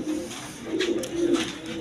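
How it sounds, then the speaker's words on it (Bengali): A pair of Bombay pigeons, a black hen about to lay, coo softly at close range from a Bangladeshi seller's loft, a few low rolling calls over faint background hum, with no speech. "আর দর্শকবৃন্দ এইখানে এক পেয়ার বোম্বাই কবুতর আছে"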